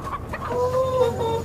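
Hens clucking inside a hen house, a steady mix of several birds' clucks and calls running throughout at moderate loudness with no talk.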